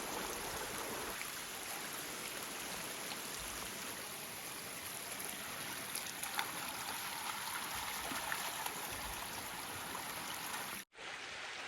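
A steady rush of spring water pours from a hillside at Defiant Spring, close and continuous with slight gurgling variation, briefly cutting out near the end before resuming.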